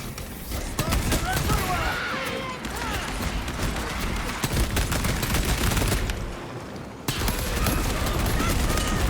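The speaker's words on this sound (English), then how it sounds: "Small arms fire. It sounds close." Dense small-arms gunfire crackles in the video game Space Marine 2, rapid bursts from nearby running almost without pause under battle noise and voices.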